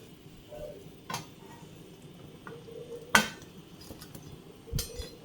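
Fried sukhiyan being scooped out of a frying pan with a slotted spoon, giving a few sharp metallic clinks and scrapes against the pan over a faint low sizzle of hot oil.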